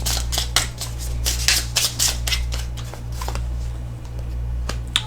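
Tarot cards are shuffled close up in rapid, crisp riffling bursts, alone and at a soft level.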